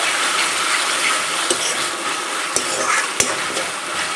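Paneer chilli with soy sauce is stir-fried over a high flame: a loud, constant, bright sizzle with a few sharp clacks from the utensil against the pan spread through it. No one speaks.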